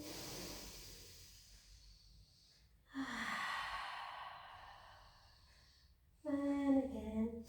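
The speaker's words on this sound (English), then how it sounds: "Deep breaths in." Deep, slow breaths drawn in and let out during a pilates session, three long airy exhales close to the mic, the last with a slight voiced sigh.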